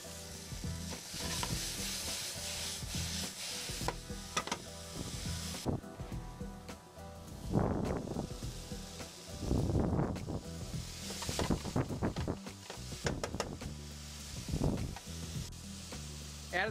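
Zucchini, shallots and tomatoes sizzle loudly in a pan in an RV kitchen, with repeated stirring scrapes and bursts of crackle rising and falling across a long stretch.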